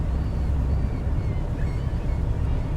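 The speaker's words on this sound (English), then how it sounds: "Hear the engine's roar." A single fishing boat engine in the Fishing: North Atlantic video game drones steadily at full speed, a loud, constant low rumble heard alone with no talk over it.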